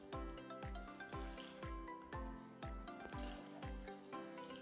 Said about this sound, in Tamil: இது மாதிரி டம்ளரில் 3 டம்ளர் தண்ணி சேர்த்துக்கலாம்.